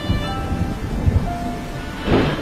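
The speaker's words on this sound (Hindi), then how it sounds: "बारिश बहुत ज्यादा तेज थी" Heavy cartoon rain pours steadily throughout, with a deep rumble of thunder swelling near the end; loud and close, with no talking.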